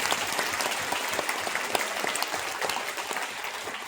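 A crowd at a Hindu gathering in Loni claps loudly for the event organisers, a dense, continuous roar of many hands close by that holds steady throughout.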